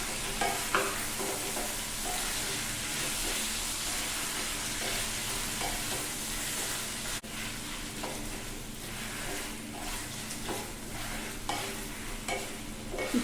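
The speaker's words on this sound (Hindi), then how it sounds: "चिकन को अदरक लहसुन के साथ भी भून ले रहे हैं।" Chicken pieces fry in a pan with ginger garlic paste for a chicken curry, a continuous dense sizzle with repeated scraping stir strokes throughout, close and steady, no talking.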